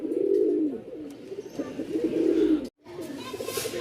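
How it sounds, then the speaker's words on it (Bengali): Giribaz pigeons coo in steady, low rolling murmurs, overlapping and continuous, with a brief gap before the cooing resumes close by. "আজকে যে কবুতরগুলো আনছি"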